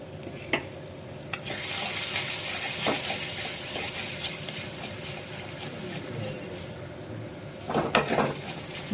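Poppy seed, mustard, ginger, cumin and chilli paste poured into a hot pan for a katla fish curry sizzles steadily over a raised gas flame, broken by occasional sharp clicks of a stirring spoon against the pan.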